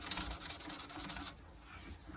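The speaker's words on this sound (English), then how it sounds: "we then follow the grain to take some of the marks that have been left from the sanding" Quick back-and-forth scratchy rubbing of sandpaper along the grain of a wooden pen, steady strokes for about a second, then softer and fainter.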